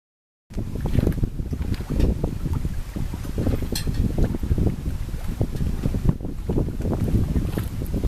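Wind rushing over a sailboat on Long Island Sound in fairly gentle conditions, a loud steady low roar with buffeting gusts against the microphone and faint water wash beneath, no voices.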